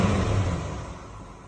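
A 1979 Pontiac Firebird engine revs up briefly, close and loud at first, then the roar eases away over about a second and a half.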